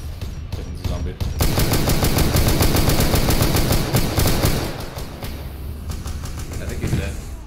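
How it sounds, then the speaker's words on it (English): Rapid automatic gunfire rattles in dense, sustained bursts during a Warhammer 40k battle with Cadian Shocktroopers against Poxwalkers, loud and close, then thins into scattered shots. "Someone's shooting me."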